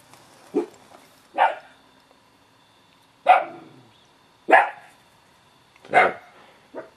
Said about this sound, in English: His bark has changed finally.